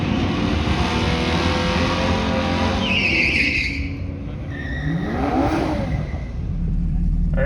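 Drag race cars launch at the start, engines roaring and revving hard with tire squeal and whining sweeps as they pull away, loud and close, with people talking over the noise.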